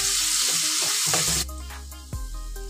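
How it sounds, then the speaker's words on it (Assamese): Potatoes frying in oil in a pan with salt and turmeric, giving a loud, steady hiss that drops suddenly to a quieter simmer partway through, with one low knock near the end; no voices. "এইখিনি এতিয়া মই ধুনীয়াকৈ ফ্ৰাই কৰি ল'ম।"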